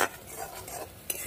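Spice paste for a bitter gourd curry fries gently over low heat in a pan, a soft, quiet sizzle with light stirring scrapes and one brief clink near the end, no voices.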